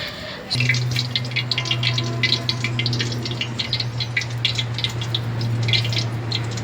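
Sundal chickpeas boil in a pot with a steady bubbling gurgle over a constant low hum. Close, irregular pops and splutters continue throughout.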